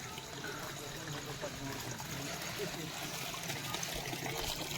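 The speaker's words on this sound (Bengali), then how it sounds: "হাতটা ধুতে হবে আবার" Tap water runs steadily while hands are washed at home, a continuous trickling splash at close range, fairly quiet, with some voice faintly present.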